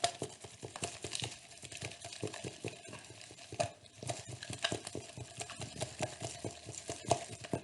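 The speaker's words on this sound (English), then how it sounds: "So we stir like crazy until everything shows up on the stick." Vigorous stirring of cross-linked polymer putty in a cup with a stirring stick produces a rapid, steady run of scraping, clicking knocks, close and continuous with a brief pause midway.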